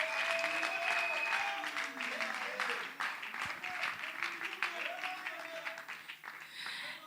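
An audience at a Christian acoustic concert claps steadily, a dense wash of applause that carries on throughout while a voice speaks over it.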